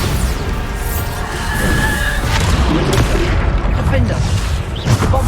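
Repeated spell blasts and booming impacts from the Bombarda spell during a hard-mode battle in the video game Hogwarts Legacy, loud and continuous, layered with combat noise and voices.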